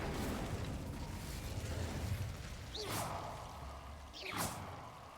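An Incendio fire spell is cast twice in the Hogwarts Legacy video game, each a sharp rising whoosh with a fiery burst over a steady rumbling game background, no voices.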